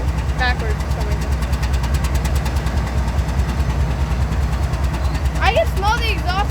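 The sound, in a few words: diesel locomotive engine idling in rail yard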